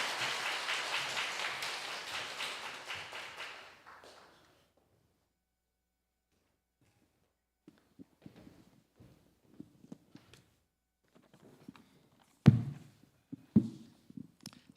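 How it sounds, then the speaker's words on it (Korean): Church congregation applauding during a Sunday afternoon service, a burst of clapping for about four seconds that fades out, followed by near silence broken by scattered thumps and footsteps. "우리 나올 때 힘차게 박수로 한번 맞으시기 바랍니다."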